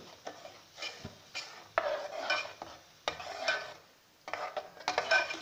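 Half a packet of Shan masala spices fries in ghee in a pan while a spoon stirs it, producing repeated scraping strokes with a light sizzle underneath. The sounds come in short bursts separated by brief pauses.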